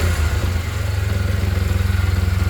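A Yamaha Jupiter MX motorcycle engine runs loud and close, its steady throbbing pulse lifting a little as the throttle is blipped, with no other sounds.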